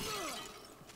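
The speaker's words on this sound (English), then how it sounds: "I'm smashing all these jars" A single sharp shatter of a clay jar being smashed in the medieval combat game For Honor, a bright crack with a falling ringing tone that quickly fades.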